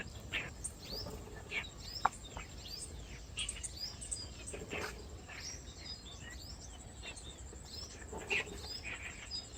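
Small birds chirp and tweet in quick, high, scattered calls over a steady outdoor insect buzz at a rural farm, with chicks in a nest close by; the calls are moderately faint and continuous.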